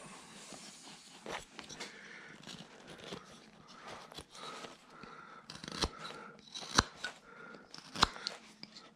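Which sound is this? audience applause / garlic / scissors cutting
scissors cutting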